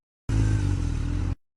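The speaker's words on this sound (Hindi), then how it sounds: "अब देखो यू करी मैंने बाइक स्टार्ट और यू चले हम घर" A cartoon motorbike starting and riding away, a loud, abrupt engine roar that begins suddenly, holds a steady throaty rumble for about a second, then cuts off quickly into silence.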